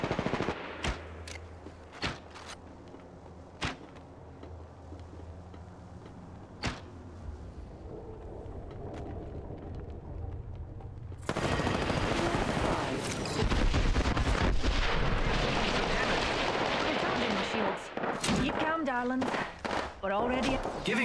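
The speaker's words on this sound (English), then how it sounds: "Opening fire on the enemy." Video game gunfire in rapid bursts of sharp shots, quieter and sparse at first, then a dense, loud stretch of continuous firing and impacts in the second half.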